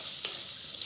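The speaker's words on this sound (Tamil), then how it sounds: "ஒரு தடவை கிளறி விட்டுட்டு" Dried fish curry with mango sizzling in a pan while being stirred, giving a steady soft frying hiss with a faint scrape of the stir.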